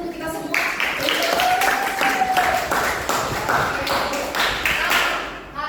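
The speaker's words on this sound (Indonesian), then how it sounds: "tepuk tangan dulu untuk kita semua" A classroom of students claps together after a lesson, a lively burst of hand clapping mixed with taps and thuds, and voices can be heard along with it.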